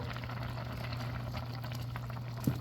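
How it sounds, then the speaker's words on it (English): A pot of fish stew simmers quietly, giving a low, steady bubbling hum with soft liquid pops and one small knock near the end, faint and without speech. "letting it simmer maybe a little more"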